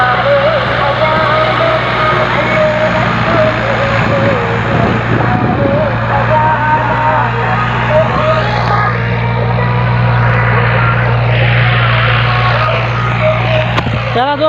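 A tractor engine runs close by in a steady, loud, rumbling drone that holds for the whole stretch, with voices talking over it.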